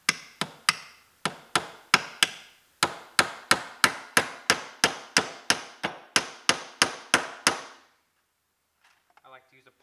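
A hammer drives nails into a wooden speaker shelf in a rapid run of about two dozen sharp, loud, evenly spaced strikes, then stops, leaving only a few faint clicks.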